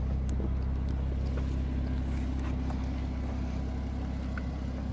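Steady low engine drone with a strong low-frequency hum throughout, from a new BMW 440i convertible with the top down pulling away, its exhaust note held fairly constant and close without sharp rev peaks.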